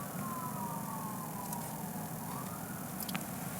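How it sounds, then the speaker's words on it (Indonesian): An emergency siren wails from a distance on the road, a faint sweeping tone under the steady rumble of a moving vehicle's cabin. "ada ambulan nih. Ambulan atau sirene?"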